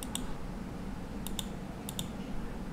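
A computer mouse clicks in Windows 11 settings, a few faint, sharp, close clicks in pairs against a low steady hum.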